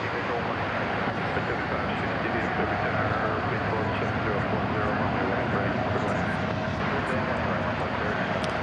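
A Boeing 787 Dreamliner airliner departs DFW airport bound for LAX, its jet engines a steady, dense roar that holds evenly loud from start to finish.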